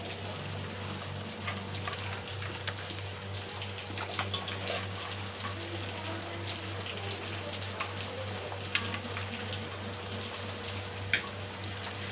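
A pot of fish curry gravy bubbles at a steady, soft boil, with a continuous low, faint simmering hiss and occasional small pops close by.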